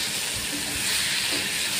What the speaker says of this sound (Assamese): দিয়াৰ পিছত ইয়াক আকৌ অলপ সময় ভাজিলোঁ